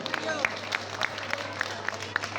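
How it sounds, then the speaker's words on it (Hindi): Applause at a Janmashtami cultural fest at ISKCON Bahadurgarh: scattered, fairly faint claps at a steady pace over a low hum, with a hint of crowd murmur. "जोर से उनके लिए भी ताली बजाइए"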